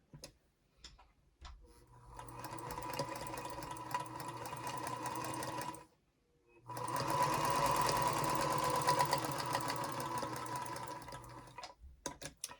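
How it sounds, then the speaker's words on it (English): A sewing machine stitches a quarter-inch seam along the edge of a hexagon potholder, running in two steady, fairly loud bursts split by a short pause, with no talking. "And we'll take it over to our machine. And we're going to stitch down that edge 1/4 inch."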